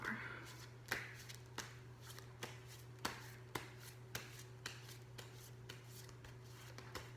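Tarot cards are shuffled in a quiet, regular rhythm of soft riffling snaps over a steady low hum, faint and close.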